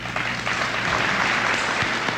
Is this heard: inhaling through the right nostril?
no